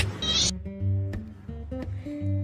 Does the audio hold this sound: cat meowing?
yes